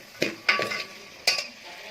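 A spoon stirs chopped vegetables in a pan for chicken macaroni, making a few sharp, close scrapes and clinks against the metal within about two seconds. No talk.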